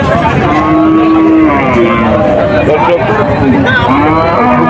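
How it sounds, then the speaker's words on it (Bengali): Several cattle moo loudly and repeatedly at a livestock market in Manirampur, Jessore, Bangladesh, with overlapping calls close by, a busy crowd murmuring and an engine hum underneath. "এই হাটে কীরকমের করে গাই গরু বিক্রি হয়"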